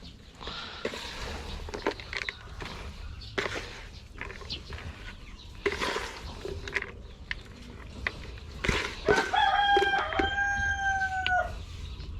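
Rhode Island chickens cluck in short bursts nearby, and a rooster crows loudly near the end, with farmyard rustling in between.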